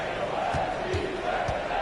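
A Houston arena crowd at a Rockets game in NBA 2K26 keeps up a steady roar, with a commentator talking over it and a few dull thumps.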